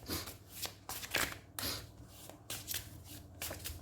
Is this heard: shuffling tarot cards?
yes